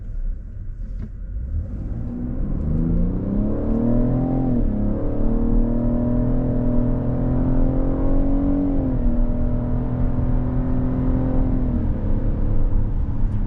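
A Cadillac XT6 V6 SUV in sport mode pulls hard through paddle-shifted gears from inside the cabin, its engine note climbing loud and steady with distinct pitch drops at each shift, no voices over it.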